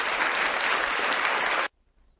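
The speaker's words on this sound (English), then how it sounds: "Stick some applause in." A canned applause sound effect played through a small sound card, a bright, even burst of crowd clapping lasting under two seconds before stopping abruptly.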